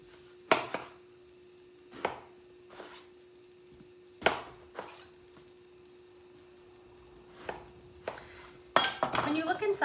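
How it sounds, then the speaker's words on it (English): A knife chops through eggplant on a cutting board in sharp, separate thwacks spaced a second or two apart, close and clear, followed by a dense burst of rapid cuts at the end. "Back to our eggplant. So I'm gonna cube it."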